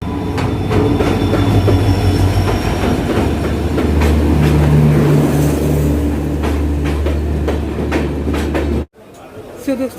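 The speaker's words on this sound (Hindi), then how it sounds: "as you can see platform number 1 पे आ चुका है यहाँ पे अवध असम एक्सप्रेस" Avadh Assam Express pulling in at platform 1 of Dimapur station: a loud, close, continuous rumble of rolling wagons with clattering wheels and a steady high squeal, easing off abruptly near the end.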